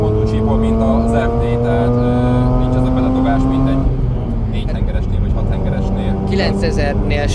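A Mazda RX-8 rotary engine screams at high revs, holding a steady whine against the electronic limiter, then drops briefly and climbs again, close and loud.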